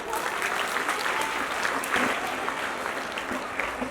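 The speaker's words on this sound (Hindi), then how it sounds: "ताली बजाओ एक बार।" A school audience at an inter college patriotic poetry event claps together, a dense burst of applause from a crowd filling a few seconds.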